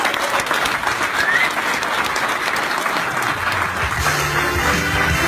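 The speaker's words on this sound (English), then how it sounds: "Please welcome with a round of applause," An audience at a cryptocurrency launch event applauds to welcome a speaker, a thick, even wash of clapping held at a steady level throughout, with a brief voice near the end.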